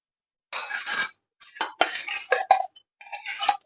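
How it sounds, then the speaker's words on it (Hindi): Bursts of scraping and clattering from a spatula on a hot tawa griddle as a paratha is turned, in short uneven bursts separated by brief silences, close by. "ये एक तरफ से हो चुका है, इसे मैं अब पलट रही हूँ।"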